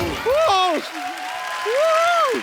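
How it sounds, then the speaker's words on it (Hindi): Studio audience applause on The Kapil Sharma Show, a broad steady wash of clapping running under a loud, gliding musical tune that sits over it for the whole stretch. "जोरदार तालियां देवा, ऋतिक रोशन, आशुतोष गोवारीकर एंड पूजा के लिए।"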